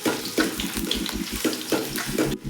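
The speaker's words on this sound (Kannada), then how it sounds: "ಈರುಳ್ಳಿ ಹಾಕ್ಕೊಂಡು ಚೆನ್ನಾಗಿ ಫ್ರೈ ಮಾಡ್ಕೋಬೇಕು." Onion sizzles in hot oil in a pan, a loud, dense, continuous frying hiss with rhythmic stirring and scraping pulses, close and alone until it cuts off abruptly near the end.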